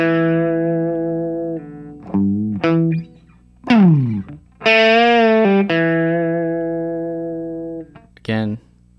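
Opening line of a song on a distorted electric guitar, with sustained notes, quick hammered phrases and pitch bends sliding up and down, loud and close with no talking.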